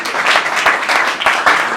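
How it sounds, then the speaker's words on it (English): Applause from an audience during a school group's visit to a commissioner's office, a dense steady patter of many hands clapping, fairly loud and close, lasting under two seconds. "give her a round of applause"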